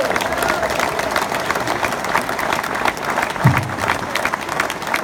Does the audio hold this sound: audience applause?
yes